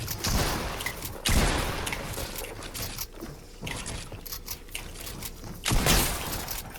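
Gunfire in a shooting video game: several sharp, loud shot bursts stand out over a busy, steady game soundscape, with one early, another near the start and a final burst near the end.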